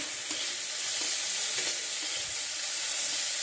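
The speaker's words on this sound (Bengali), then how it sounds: "পটল চোকলা ভাজি করব এই তো বসিয়ে দিয়েছি" Pointed gourd peels fry in a pan, a dense continuous sizzle with stirring scrapes layered over it, close and fairly loud, with no voices.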